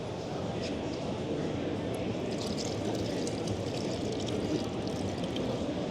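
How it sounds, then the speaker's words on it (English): Water streams steadily from a push-operated self-closing tap at a DIY wash station, a constant rushing flow held for the whole stretch, loud and close with no break. "if you push all the way up, the water runs constantly until you release it again"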